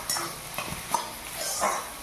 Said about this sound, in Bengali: এবারে দিয়ে দেবো বেটে রাখা পোস্ত বাটা। কিছুক্ষণের জন্য নেড়ে চেড়ে